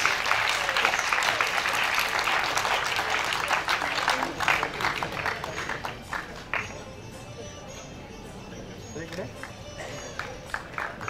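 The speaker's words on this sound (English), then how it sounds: "Can we hear a huge round of applause?" Audience at a national MSME convention applauding during an award presentation, dense clapping at first that thins into scattered claps, with murmuring voices underneath.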